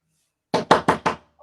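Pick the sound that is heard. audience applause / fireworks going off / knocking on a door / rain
knocking on a door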